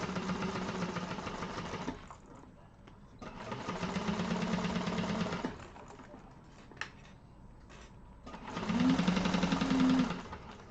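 A sewing machine runs basting stitches on a Konin bowler bag, in three steady bursts of rapid mechanical whirring with short quiet pauses between them.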